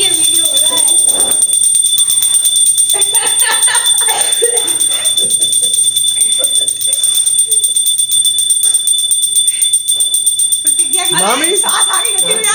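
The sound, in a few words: bell being rung loudly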